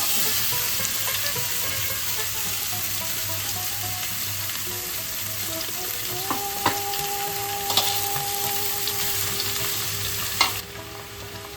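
Chopped ash gourd and dried chillies frying in hot oil give a steady, close, even sizzle, with a few sharp clinks and scrapes of a utensil toward the end.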